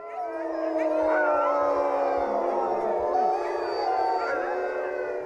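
Greenland sled dogs howling together in a village in northern Norway above the Arctic Circle, several long, wavering voices overlapping continuously at close to moderate distance.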